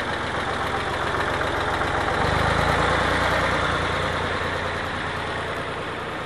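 A tractor working a bean sprayer runs at a low idle, then its engine note rises and steadies at a higher speed about two seconds in, a continuous loud drone with no talk.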